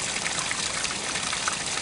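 Water trickles steadily from a spring source beneath a stone platform, giving a continuous close, bright babbling with no voices.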